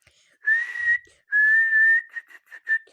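A person whistles during a whistling lesson: two long, steady sustained notes, then a quick run of short chirped notes, close and clear with no talking.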